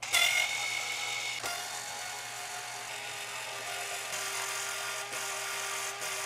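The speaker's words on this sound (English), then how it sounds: "I only use electric screwdrivers when I am installing or uninstalling computer fans." An electric screwdriver whines continuously at close range while backing screws out of computer fans on a water cooler, its motor pitch holding steady with a few brief dips.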